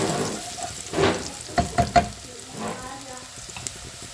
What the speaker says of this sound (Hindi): ये हमारा प्याज बस गोल्डन फ्राई हो गया है और हमने इसको अच्छे से मिक्स करते रहना है